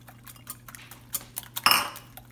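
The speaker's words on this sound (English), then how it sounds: "I've got my 6 eggs in a bowl and I'm gonna whisk them up a little bit." Six eggs being whisked in a bowl, giving a run of quick, light clinking taps of utensil against the bowl, soft and fairly close, with a brief louder burst of clatter near the end and no talking.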